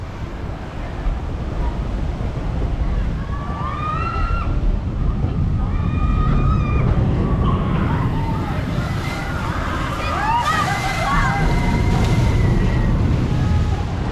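Water rushes and sloshes steadily at the Flashback log flume ride at Walibi Belgium, a continuous loud wash heard nearby, with people talking and shrieking over it.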